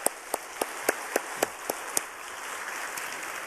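Applause of thanks at a Wednesday church worship service: a run of evenly spaced sharp claps, faint and a little distant, giving way to a softer, continuous patter of clapping with no speech.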